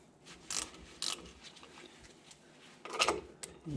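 Ratchet clicking as it loosens nuts on the brakes of a 1968 Land Rover Series 2A, a few short, close metallic bursts with quiet pauses between them.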